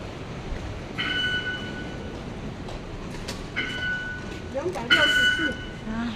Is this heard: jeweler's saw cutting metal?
no